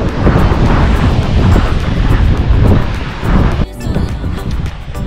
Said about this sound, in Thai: ลมก็ไม่แรงมากเท่าไหร่นะ